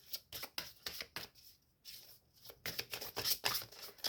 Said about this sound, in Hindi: सो हम सबसे पहले कार्ड शफल कर लेते हैं